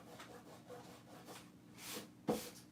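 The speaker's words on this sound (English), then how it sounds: "You just rub until it's all off" Paper being rubbed off a wooden sign decorated with Mod Podge, a quiet dry scrubbing in uneven strokes that builds to a firmer rub and ends with a short knock, close and faint.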